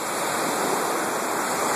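Ocean waves at the beach: a steady, close wash of surf with a broad hiss, continuous and fairly loud, without talk.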